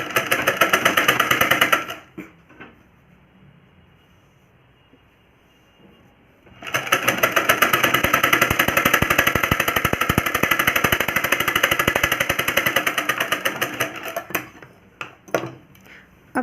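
A sewing machine stitches a belt onto a plain blouse. Two bursts of fast, rhythmic mechanical clatter sound up close, separated by a quiet pause of several seconds, with a few brief stitches at the end.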